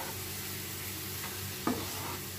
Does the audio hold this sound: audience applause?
no